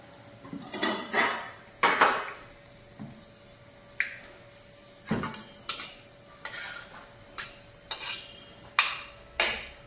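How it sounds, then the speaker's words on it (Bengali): Dried red chillies and black peppercorns dropped into hot oil in a kitchen pan, giving a run of short sharp clatters and brief sizzling bursts spaced irregularly over a low steady hum. "তেল আমাদের গরম হয়ে গিয়েছে। আমি দুটো ফাটিয়ে নেওয়া শুকনো লঙ্কা দিয়ে দিলাম আর দিয়ে দিলাম গোলমরিচ।"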